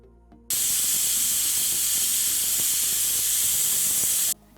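A pressure cooker cooking chicken biryani releases a loud, continuous steam hiss that starts abruptly, holds steady for about four seconds, then cuts off, with faint kitchen clatter underneath.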